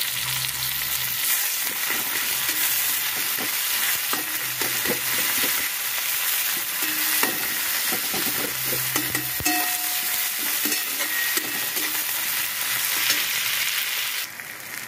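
Tomatoes go into a pan of golden fried onions, giving a steady, loud sizzle with occasional stirring scrapes throughout and no talking.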